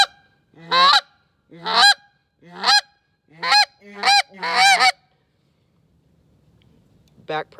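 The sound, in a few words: goose call device imitating geese honking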